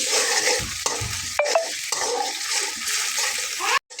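Ground spice paste fries in hot oil while a spatula stirs and scrapes the pan, a loud continuous sizzle with knocks and clatter, then a brief pause near the end.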